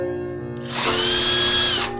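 A power drill spins up after a brief quieter start and whines steadily for just over a second while running drill bits through holes on a flat surface, then cuts off.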